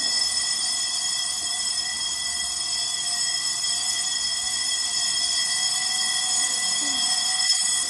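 A building fire alarm in Singapore rings continuously throughout, a steady high, piercing electronic tone with sustained harmonics and no break in its drone.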